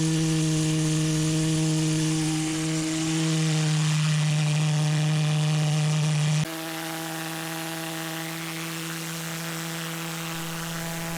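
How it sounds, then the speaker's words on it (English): An asphalt heat lance blaster blows steadily for the whole span, a loud roaring jet with a strong droning hum that thrusts like an oversized leaf blower, shifting once partway through to a slightly different, steady roar. "It blows like a leaf blower. It has a little more thrust than a leaf blower does, except it can melt pavement."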